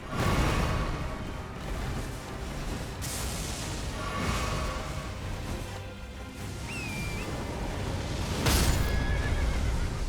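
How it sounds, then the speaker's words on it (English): A horse in Elden Ring whinnies loudly and repeatedly over a dense battlefield din, with a sharp crash near the end. "Instant I get on my horse."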